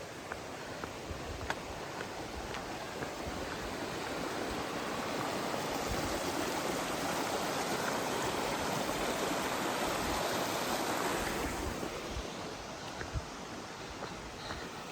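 A brook beside the Appalachian Trail flows with a steady, close rushing and babbling of water, swelling slightly in the middle and continuing alone without voices.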